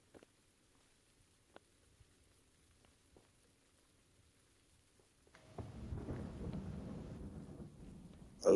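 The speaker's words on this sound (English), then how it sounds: "Love the storm." A thunderstorm in the PUBG: Battlegrounds video game: after a quiet stretch with faint ticks, a low rumble of thunder and rain patter swells up and holds for several seconds.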